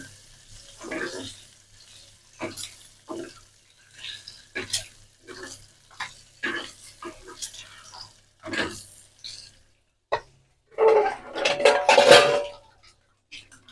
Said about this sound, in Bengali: ডিমগুলো দেওয়ার পর পর আপনি নাড়তেই থাকবেন।